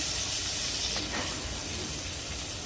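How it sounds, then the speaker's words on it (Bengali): Water poured onto fried onion and green chili in a hot pan raises a loud, continuous hiss of steam that holds steady to the end. "পেঁয়াজ কাঁচামরিচ ভাজা হয়ে গেছে, একটু পানি দিয়ে দিব।"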